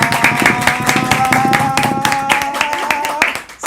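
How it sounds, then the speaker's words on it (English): An audience claps at a master class event, producing a dense, fast patter of hand claps that stays steady and close for a few seconds, with a musical tone running beneath, then quickly fades out. "Y'all clap it for me."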